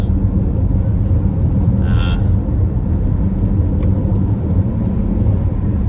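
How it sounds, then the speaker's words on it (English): A car engine accelerating while merging onto a freeway, a steady loud low rumble with road and wind noise throughout, no voices. "As I'm merging onto the freeway here."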